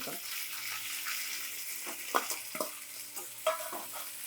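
Long-sliced medium onion dropped into a pan and stirred, a soft hiss of frying under a few distinct clinks and scrapes of a spoon against the metal, fairly quiet with no speech.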